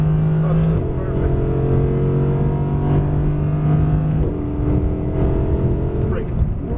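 A steady, droning Audi R8 V10 engine pulling at full power on a racetrack hot lap, with its pitch stepping at gear changes. It runs loud and continuous under an instructor's voice.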